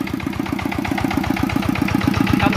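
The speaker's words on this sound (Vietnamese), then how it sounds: "Đây là tiếng máy dầu đã được bên em quay nổ nha cả nhà." A Yanmar YC7 tiller's diesel engine idles close by, a steady rapid chugging knock that grows slightly louder and keeps an even rhythm.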